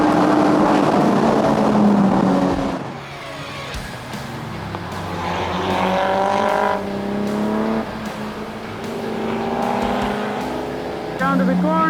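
A Toyota MR2 race car screams flat out along a straight, its engine note rising through gears with sharp shifts in between, loud and close from onboard while a driver talks over it.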